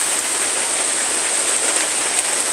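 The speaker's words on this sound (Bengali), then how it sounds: "বৃষ্টির গান বেশ সুন্দর ঝুমঝুম শব্দে" Dense, steady hiss of heavy monsoon rain pouring down, loud and unbroken with no voices.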